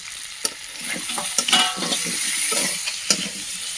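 Taro being sautéed with ginger in a pan, a close sizzle punctuated by several sharp spoon scrapes and clinks against the pan as it is stirred.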